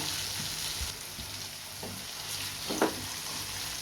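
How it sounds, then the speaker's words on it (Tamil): Paneer cubes roast in oil in a pan for a gravy, giving a quiet, continuous frying hiss with a couple of faint stirring knocks, no voices. "பன்னீர் எண்ணெயில் நல்லா வந்து ரோஸ்ட் ஆயிடுச்சு"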